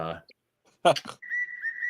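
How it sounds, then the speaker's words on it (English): A whistle sounds in the background during spring training baseball commentary: a steady sustained tone in the second half of the clip, following a short burst of speech. "I don't know if y'all heard that whistle in the background"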